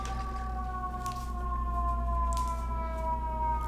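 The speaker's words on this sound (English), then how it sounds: "Oh god, there's so many sirens today." A siren wails steadily in the distance, its long sliding tones holding over a low rumble of background noise, with no talking.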